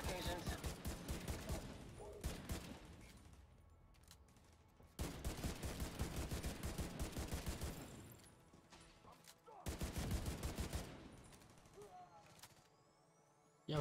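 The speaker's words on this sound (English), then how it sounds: "that's a grenade launcher." Bursts of rapid weapon fire and thudding blasts from a grenade launcher in a video game come in three clustered volleys separated by brief lulls, fairly loud and sharp.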